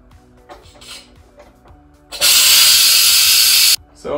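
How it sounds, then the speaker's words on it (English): A pressure cooker cooking vegetables vents steam through a steam funnel, a loud steady hiss that starts abruptly after quieter kitchen clatter and cuts off about a second and a half later. "We can now switch off and depressurize. If you wish to, you can use the steam funnel."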